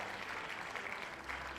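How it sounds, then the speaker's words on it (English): Applause from an in-game audience in a Hoyoverse game, a faint, steady patter of many hands clapping that lasts the whole moment without a break. "All right, so another applause."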